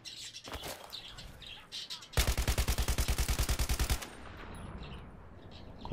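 Rapid automatic gunfire in the video game Battlefield 3: a loud burst of about twenty evenly spaced shots lasting roughly two seconds, set between quieter in-game ambience.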